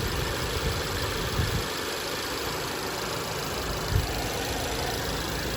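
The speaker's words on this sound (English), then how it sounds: "Here's your 2-liter TSFI engine." A 2015 Audi A3 with a 2-liter TFSI engine idles at a steady, even hum, with a couple of faint knocks and a bright whine above the low rumble.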